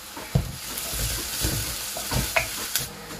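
Sliced onions sauté in a pan with a bright, close sizzle, interrupted by a few sharp stirring scrapes and clatters at an uneven pace.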